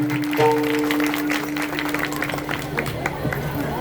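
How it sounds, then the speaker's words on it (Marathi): Clapping breaks out from an audience at an Akhand Harinam Saptah kirtan gathering in Maval, a loose scattered patter of hands under crowd murmur, with a sustained musical tone at the start. "एकदा रवी दादा करता जोरात टाळी पाहिजे."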